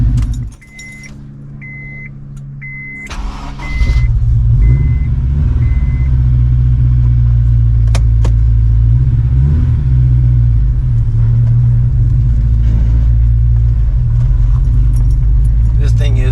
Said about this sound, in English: let's go for a test drive real quick so you can hear it.